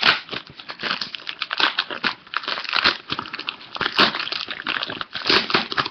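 A mailed package from Canada wrapped in outer bubble wrap being opened by hand, with dense close crinkling, crumpling and tearing of plastic in quick irregular bursts, no talking.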